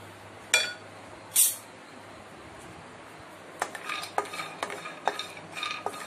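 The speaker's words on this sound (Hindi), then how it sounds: "काजू बादाम जो हमारे पास है ये हम रोस्ट कर लेते हैं।" Cashews and almonds dry roasting in a pan are stirred with a utensil: two sharp scrapes, a quiet pause, then a run of light clinks and rattling stirs close by, with no talking.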